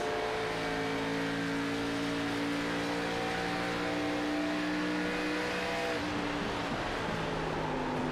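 Race car engines lapping Darlington in the racing sim iRacing, several cars droning steadily and close together with rising and falling throttle tones layered over one another, unbroken for the whole stretch.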